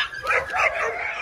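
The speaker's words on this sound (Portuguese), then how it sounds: "Muito doido esse cachorro, cara." A pit bull–type dog at a kennel gives a rapid run of short barks and yips, loud and close, with a busy background.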